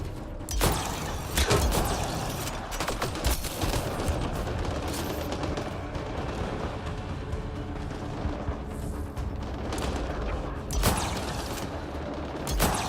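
Gunfire in the video game Mass Effect Andromeda, with a continuous, dense barrage of shots, booming impacts and mechanical clatter layered throughout, loud and busy with occasional stronger blasts.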